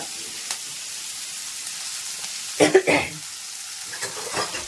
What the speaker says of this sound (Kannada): ಹಸಿಮೆಣಸಿನ್ಕಾಯಿ ಹಾಕಿದ್ದೀನಿ ಕ್ಯಾಪ್ಸಿಕಮ್ ಇದೊಂದು ಸ್ವಲ್ಪ ಫ್ರೈ ಆಗಲಿ